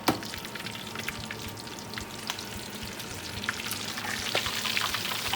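Crispy pork sisig fries in a pan, a steady dense crackle and sizzle with scattered sharp pops, close and fairly loud, alone without talk.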